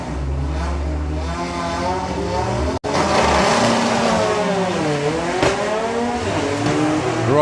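A drag racing car launching hard down the strip at a national finals meet, a loud continuous roaring engine that climbs and shifts pitch over several seconds, dominating everything with no voices.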